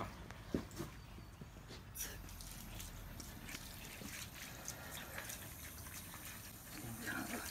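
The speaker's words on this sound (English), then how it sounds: "now I'm gonna wash off here a little bit" Water runs steadily while a cleaned alligator gar is rinsed off, a faint continuous trickle and splash with a few sharper knocks, fairly quiet throughout.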